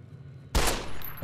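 Gunshot in Fallout New Vegas: a sudden sharp, loud crack followed by a short ringing tail, then a second quick report near the end, after a brief quiet stretch.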